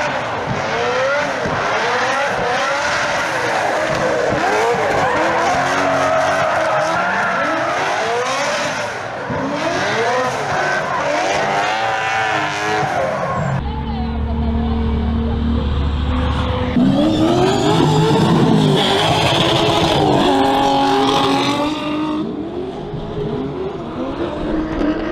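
Drift cars accelerating hard at a drift event, engines revving high and wailing through gear changes while tires squeal and skid almost continuously, loud and close, with a deeper engine drone in the middle stretch.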